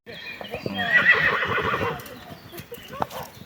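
A horse whinnies loudly up close while hooves clop rhythmically on a hard surface, with faint voices in the background.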